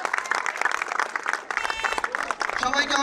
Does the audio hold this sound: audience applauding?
yes